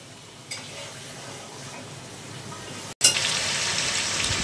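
Meat sizzling as it is sautéed (kosha) in a pan in a home kitchen, a low steady frying hiss that turns louder and brighter near the end.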